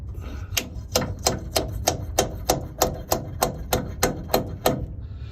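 A bushing installer is struck repeatedly to drive a bushing into place, giving about fifteen sharp, evenly paced metallic taps, close and fairly loud, with no talking.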